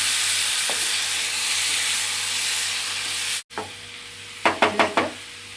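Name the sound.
stirring jackfruit masala mixture in a pan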